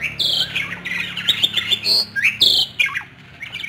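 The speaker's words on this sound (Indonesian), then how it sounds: "burung jalak nih" Starling calling outdoors near Borobudur, a run of loud, close squawks and harsh chirps in quick irregular bursts, with short pauses between phrases.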